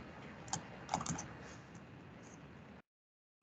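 Computer keyboard typing, faint scattered key clicks close by, a few sharper taps early on, then a stretch of silence.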